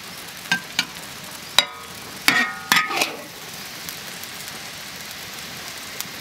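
Chicken giblets stir-fry in a wok, giving a faint hiss with a few sharp scraping and clanking strokes of the spatula early on, then a quieter simmer.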